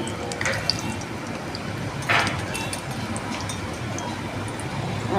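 Mustard seeds drop into hot oil and fry, a soft continuous crackle with a few sharper pops and spits breaking through the low kitchen background.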